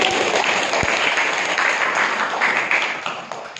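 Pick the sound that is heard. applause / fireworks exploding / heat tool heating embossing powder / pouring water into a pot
applause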